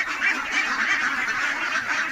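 A dense, loud chorus of many ducks quacking at once, continuous and overlapping, on a large farm of about 1,500 ducks.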